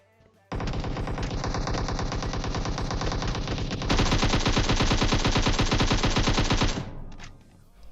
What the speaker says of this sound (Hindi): सारी की सारी गोली दीवारों पे पेल देता है ये